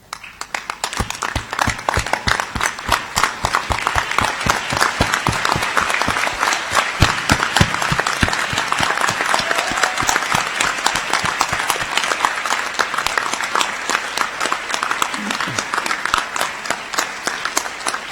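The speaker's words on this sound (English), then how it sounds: "I now invite you to stand and turn and express your gratitude by a round of applause." At a Monash Malaysia graduation ceremony, the audience gives a long round of applause. Many hands clap steadily and loudly throughout, with a faint murmur of the crowd underneath.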